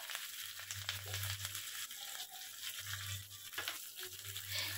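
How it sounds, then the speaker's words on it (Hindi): Steady sizzling and crackling of cumin seeds, green chillies and curry leaves frying in hot oil for a tempering, with a low hum underneath and no voices. "अब इसमें तड़का लगाने के लिए तेल में डालेंगे थोड़ा सा जीरा हरी मिर्च और कड़ी पत्ता"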